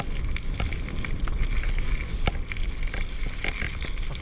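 Gusty wind blows beside a canal, a steady rushing roar with buffeting against the microphone and scattered ticks and rattles throughout.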